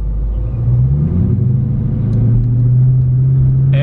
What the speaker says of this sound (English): that V8 sound, that burble that's kind of always there